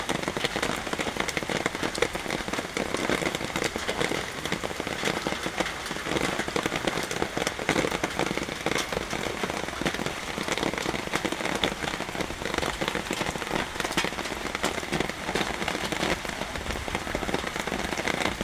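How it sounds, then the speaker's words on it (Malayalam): Heavy morning rain drums steadily on surfaces for the whole stretch, a dense, even hiss of drops with fine crackling texture, moderately quiet and uninterrupted by speech. "രാവിലെ തന്നെ ഭയങ്കര മഴയാണ്, കണ്ടോ?"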